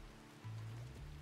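Rain in the RimWorld video game, a soft, faint steady hiss of falling rain with a low hum underneath that rises slightly partway through.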